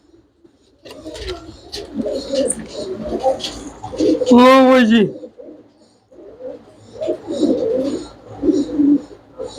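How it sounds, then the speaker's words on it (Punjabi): Pigeons coo in soft, throaty bursts close by, with a voice speaking briefly over them and a high chirp cutting through midway. "ਸਾਨੂੰ ਪੱਕੀਆਂ ਰੰਗਾਂ ਵਾਲੇ ਕਬੂਤਰ ਚਾਹੀਦੇ ਹੋਵੇ"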